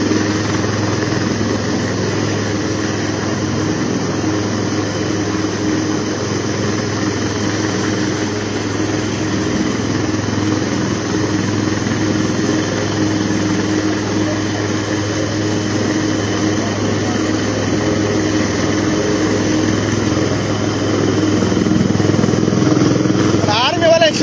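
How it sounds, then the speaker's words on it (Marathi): A rescue helicopter flying over a flooded area near Kada, Ashti, makes a steady, loud, droning rotor and engine roar that holds almost unchanged throughout, with no voices. "आपल्या एरियात दोन हेलिकॉप्टर चालू आहेत"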